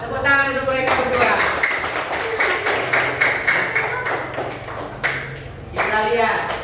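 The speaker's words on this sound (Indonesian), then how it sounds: "Tepuk tangan untuk mereka berdua." A classroom group claps for two students, a dense burst of applause filling the middle stretch, with a teacher's voice speaking just before and after.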